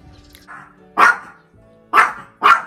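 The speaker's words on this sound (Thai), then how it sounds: "เห่าทำไมอ่ะจาโก้" A dog barks three times indoors, loud and close, with short sharp bursts spaced about a second apart after a quieter whimpering sound.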